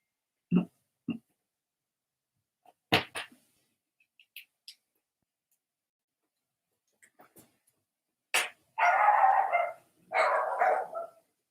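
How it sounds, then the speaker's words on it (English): Puppies in a house bark at someone walking past outside, a few sharp yips early, then bursts of louder, longer barking near the end, close and with quiet gaps between. "There's somebody walking in front of the house, so the puppies are going to go nuts."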